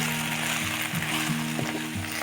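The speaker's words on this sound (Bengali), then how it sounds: "খুব সামান্য নুন দিয়ে মশলাটা একটু নাড়াচাড়া করে নিচ্ছি" Ginger, garlic and tomato masala with a little salt sizzling in a pan, a steady close frying hiss with soft scraping strokes of a spoon as it is stirred.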